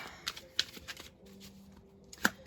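Tarot cards riffled and shuffled in short bursts, with soft flicking and snapping, close up and fairly quiet.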